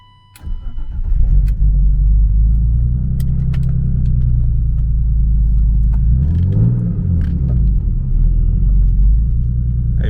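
A BMW E36 convertible car engine idles and rumbles steadily close by as the car is moved down a driveway, starting with a brief low surge before settling into a continuous loud drone with no talking.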